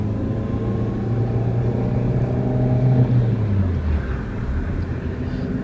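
A car pulls out onto a main road, its engine humming low and close as it accelerates with a rising then easing pitch, steady road noise running underneath throughout.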